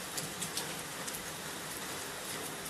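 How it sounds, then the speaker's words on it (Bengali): Rain falls steadily in a soft, even wash of hiss with a few faint drips, with no voices present. "আমাদের এদিকে বৃষ্টি হচ্ছে"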